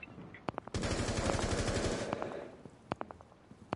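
Gunfire in a PS4 shooter game, with a long rapid burst of automatic fire followed by several separate loud shots.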